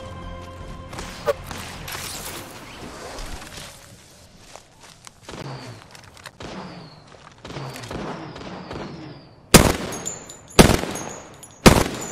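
Gunfire in a battle royale-style video game: scattered shots and footsteps early, then several loud, sharp bursts of weapon fire near the end, with game sound effects between.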